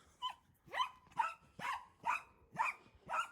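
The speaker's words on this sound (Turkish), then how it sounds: "Sen de gereksiz yere havlama oğlum." A dog barks repeatedly outdoors near a chicken coop, seven sharp, evenly spaced barks about half a second apart, close and clear with no talk over them.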